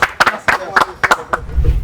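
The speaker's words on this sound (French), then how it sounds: "On applaudit." A few people clap in a loose, uneven rhythm of sharp, close claps with short gaps between them, and a low rumble comes in near the end.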